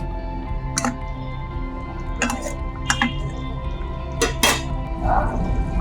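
Partly boiled potatoes are stirred into masala in a pot for a quick egg biryani, with intermittent metallic scrapes and clinks of a spoon against the pot over a steady low background hum. No talking.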